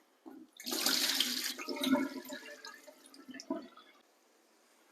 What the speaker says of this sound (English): Strain off the water.